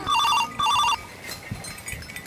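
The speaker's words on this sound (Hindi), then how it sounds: "अरे यार फोन कौन को आ रही है?" A phone rings in two bursts of trilling electronic tones, then falls quiet with faint background noise.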